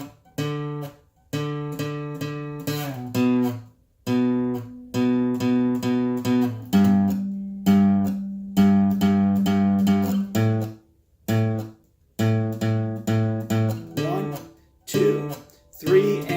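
A bass guitar plays the verse strum pattern of a song, a steady pulsing run of repeated plucked notes in an even rhythm with brief gaps, sounding close and alone.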